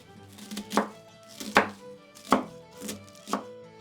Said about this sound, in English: now we're just going to cut this cabbage in half and then chop it up nice and finely